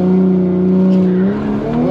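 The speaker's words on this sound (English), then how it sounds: "I burnt out pretty good there" A car doing a tire burnout at a drag strip on a hot day: a loud, sustained engine drone with strong harmonics holds steady, then the pitch shifts and climbs near the end, close and continuous for about two seconds.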